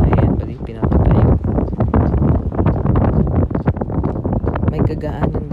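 Strong wind buffets the microphone outdoors in Dubai, a loud, continuous rumbling roar with gusty surges and rustling throughout.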